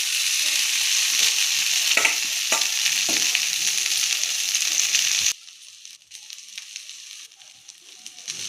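Egg and precooked rice fry in a pan with a loud, steady sizzle and repeated scraping stirs, then the sizzle drops abruptly to a quieter hiss, with no talk.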